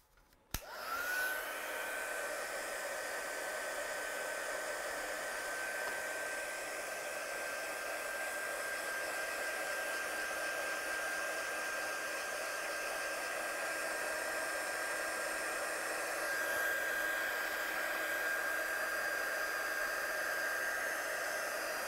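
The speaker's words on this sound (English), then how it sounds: "So let's just dry this one off." A hair dryer runs continuously at close range to dry paint on a stamped card scene, a loud steady whooshing hum with a faint whine, starting abruptly and holding without pause.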